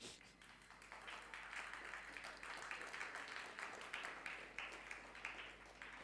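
Audience clapping at a spiritual satsang talk, faint and steady applause from a crowd with continuous patter of many hands, swelling slightly and lasting several seconds.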